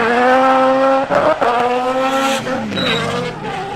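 Naturally aspirated four-rotor rotary engine car screaming at high revs, a loud, close, sustained buzzing tone that rises, dips briefly and climbs again, with faint tire noise.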